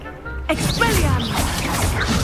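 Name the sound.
Expelliarmus spell effect in Hogwarts video game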